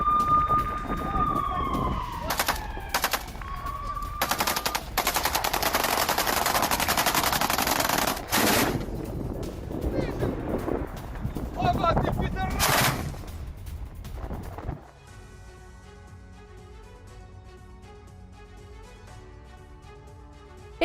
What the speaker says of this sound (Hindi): एंटी एयरक्राफ्ट गन से हमला किया गया।